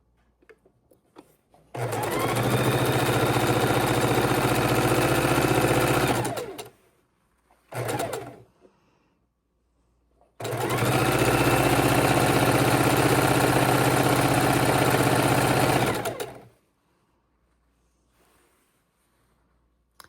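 A sewing machine stitches fabric scraps together for a quilt in two long, loud, steady runs with a brief burst between them, the motor humming evenly and stopping abruptly each time, with near silence in the pauses.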